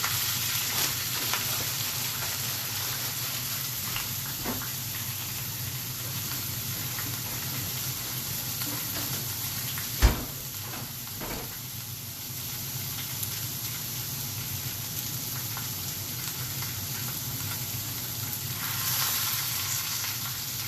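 Bison beef sizzles and fries steadily in a small pan, a constant close hiss with a brief utensil clack near the middle and no talking.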